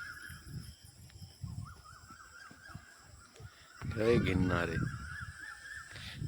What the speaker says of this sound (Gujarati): વાહ કોયલ નો અવાજ